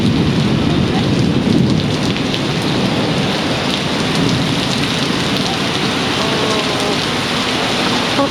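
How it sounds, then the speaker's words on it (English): Heavy summer rain pours down steadily and loudly, a dense close hiss of drops hitting surfaces with no break from start to finish. "It's raining so much."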